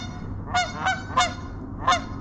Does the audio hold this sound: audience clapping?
no